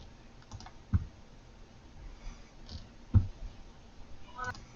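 Computer keyboard keys and a mouse clicked at a desk, sparse quiet taps with two sharper clicks standing out, no talk over them.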